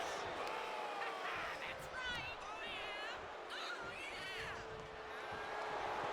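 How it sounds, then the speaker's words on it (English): Wrestling arena crowd roaring and chattering in a steady wash, with shouts and whistles rising over it, while a commentator talks throughout. "The crowd noises are something else."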